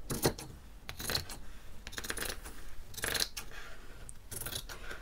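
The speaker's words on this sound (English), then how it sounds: "I'm going to cut the arms off" Scissors cut the arms off a t-shirt, rapid snipping and rustling fabric in several close bursts, with cloth being handled between cuts.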